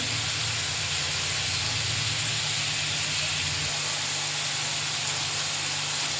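Spice paste sizzles and fries in a pan for a village-style fish curry with black cumin paste, giving a steady, close hiss that carries on without pause.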